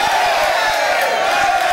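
A game show studio audience cheers in a loud, continuous wash of crowd noise that lasts the whole moment without a break.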